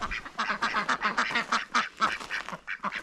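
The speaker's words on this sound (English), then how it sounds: "These are pretty tame ducks," Tame farm ducks quack in a busy, overlapping chorus, close and fairly loud, with rapid nasal calls filling the whole stretch and no talk.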